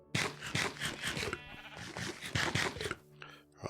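Sheep bleat in the TerraFirmaCraft video game, with several wavering, nasal bleats in quick succession, close and clear, and a short break near the end before one more starts.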